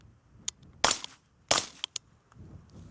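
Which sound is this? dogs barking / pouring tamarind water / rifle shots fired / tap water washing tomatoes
rifle shots fired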